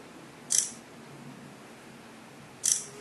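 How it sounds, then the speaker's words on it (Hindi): HTC One X smartphone camera firing its quick shutter twice, two short crisp clicks about two seconds apart against a quiet background. "क्विक शटर आप देखें कि ये कितनी तेजी से तस्वीर लेता है"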